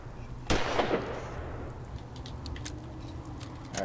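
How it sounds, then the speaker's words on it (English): A modded video game's Long Advanced Coral Pistol fires a single loud, sharp shot with a brief ringing tail, followed by quieter game ambience and a few faint clicks. "So this one's the Long Advanced Coral Pistol, so let's shoot it real quick."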